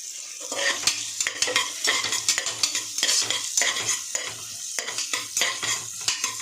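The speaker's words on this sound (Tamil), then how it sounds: "அதுக்கப்புறம் வந்து ஒரு 2 கைப்பிடி அளவு வெங்காயம் போடுறேன்." Two handfuls of onions sautéing in oil with cinnamon, cloves, cardamom and bay leaf, a crackling sizzle broken by frequent spoon scrapes and clatter against the pan, close and continuous, no speech.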